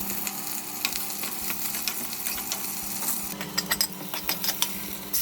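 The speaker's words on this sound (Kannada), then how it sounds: "ಈಗ ಬಾಣಲಿಯಲ್ಲಿ ಎಣ್ಣೆ ಹಾಕ್ಕೊಂಡು ಸಾಸಿವೆ, ಈರುಳ್ಳಿ, ಕರಿಬೇವಿನ ಸೊಪ್ಪು ಮತ್ತು ಒಣಗಿರೋ ಮೆಣಸಿನ್ಕಾಯಿನ ಹಾಕ್ಕೊಂಡು ಸ್ವಲ್ಪ ಹೊತ್ತು ಫ್ರೈ ಮಾಡ್ಕೋಬೇಕು" Mustard seeds, onion, curry leaves and dried chillies frying in hot oil in a pan for a Kannada-style avarekalu saaru tempering, a steady close sizzle with scattered crackles and pops, no talking.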